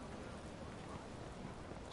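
Steady, soft rain hiss in the Watch Dogs video game, a faint continuous wash of falling rain with no distinct drops or voices.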